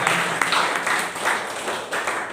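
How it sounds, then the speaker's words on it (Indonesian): Brief burst of clapping from a gathered crowd, a dense patter of hands for a couple of seconds with a few louder individual claps on top. "tepuk tangan buat Tuhan"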